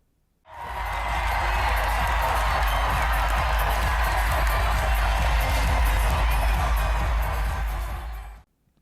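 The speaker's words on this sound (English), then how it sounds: "I got some great clips of the crowd" A large arena crowd roars and cheers steadily at a WNBA Finals basketball game, a loud dense wash of voices with scattered whoops and clapping that swells in and holds for several seconds before cutting off.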